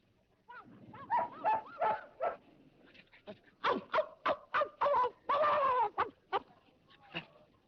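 In an old Brazilian film, Sai de Baixo, a dog barks in a rapid series of sharp, yelping barks, near and fairly loud, with brief whimpering pauses between the runs.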